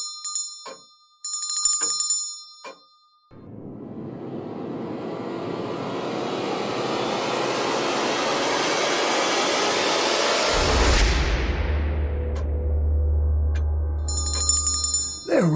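A small bell jingles in short bursts at the start and again at the end, separated by a long steady whooshing, whirring noise.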